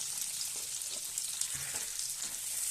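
Onions, curry leaves, green chilli and ginger sizzle in hot oil for a cauliflower masala gravy, a steady bright frying hiss with faint stirring knocks underneath.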